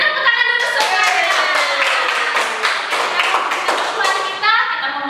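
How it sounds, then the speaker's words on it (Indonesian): Children in an online Sunday school service clap their hands in a loud, close burst of rhythmic claps and taps, with children's voices and singing mixed in. "tepuk tangan dulu semuanya"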